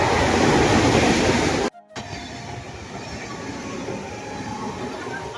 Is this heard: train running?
yes